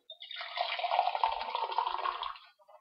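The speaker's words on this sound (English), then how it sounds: "this morning I'm in the mood for a hot coffee, so I've got hot water standing by" Hot water poured steadily from a kettle into a mug of coffee, a continuous close splashing pour lasting about two seconds before trailing off into a few last drips.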